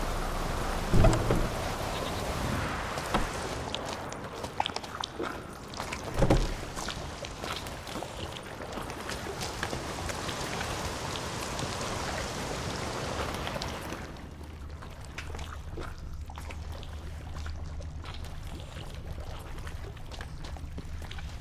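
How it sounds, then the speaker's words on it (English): Rain and thunder in The Witcher 3 video game: a steady, heavy downpour hisses throughout, broken early by two deep thunder rumbles, before the rain drops away to a quieter ambient hum near the end. "Looks like rain."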